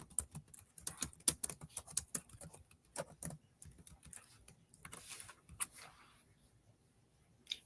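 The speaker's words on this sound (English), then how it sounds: "Let me just type right here to welcome everyone in." Fingers typing on a computer keyboard nearby, bursts of quick, crisp key clicks with short pauses between them, thinning out and falling silent near the end.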